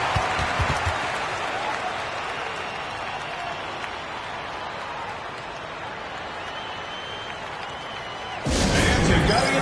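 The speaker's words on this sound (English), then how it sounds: "let's have a round of applause for the Cavalier girls" A crowd at a basketball game applauds steadily, a dense wash of clapping that swells louder near the end.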